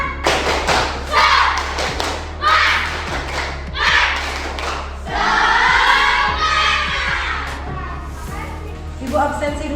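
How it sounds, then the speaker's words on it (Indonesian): Schoolchildren in a classroom perform a rhythmic spirit clap, with bursts of patterned claps and thumps alternating with the group's chanting voices, loud and close. "Tepuk semangat."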